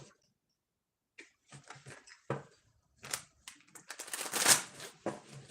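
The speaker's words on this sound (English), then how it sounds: "let's get a good shuffle and clear out the old energy" Mistress of the Gates tarot cards are shuffled close up in irregular soft riffles and flutters that build into a denser burst of card noise.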